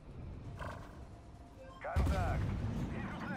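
Tank cannon fire in the Armored Warfare game, a sharp loud blast partway through with a rumbling tail, after a fainter earlier shot, over a low engine hum.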